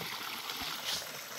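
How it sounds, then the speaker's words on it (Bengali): A small stream trickles and gurgles over rocks in a forest creek, a steady soft rush of water close by with a brief splashy surge near the end. "এই ঝর্ণা"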